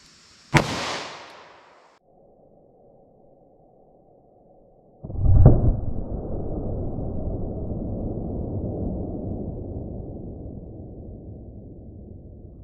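One sharp, loud report from a .32 H&R Magnum handgun fired into four layers of denim over medium density fiberboard, followed by a second heavy crack whose long rumbling tail fades slowly; no one speaks.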